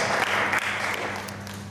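Audience applauding at an inter-school children's youth parliament in Mangalore: a dense, steady wash of many hands clapping together, fairly loud and sustained, with no voices over it.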